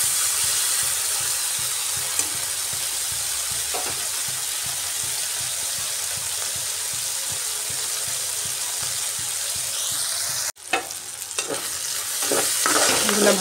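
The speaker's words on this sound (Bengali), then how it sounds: "চিংড়ি মাছটাকে একটু হালকা ভেজে নিচ্ছি, বেশি কড়া করে ভাজবো না।" Shrimp fry lightly in oil in a pan, giving a steady close sizzle with soft stirring throughout and a brief clatter near the end.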